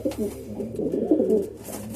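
Racing pigeons coo softly and close at hand in a loft, a low rolling burble of overlapping calls.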